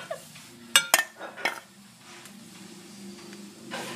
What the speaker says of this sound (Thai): ตักใส่จาน